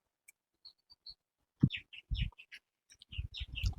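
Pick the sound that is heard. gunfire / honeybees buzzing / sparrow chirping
sparrow chirping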